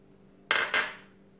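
Two quick clattering knocks as cooked scrambled eggs, two of them, are tipped into a metal mixing bowl for mutton chapli kabab, close and distinct over a quiet background.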